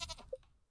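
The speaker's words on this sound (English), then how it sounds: "We've got one sheep there, two sheep." Sheep bleating in the farming game Stardew Valley: a single short, tonal bleat rises out of a busy mix of other game sounds, brief and moderately loud.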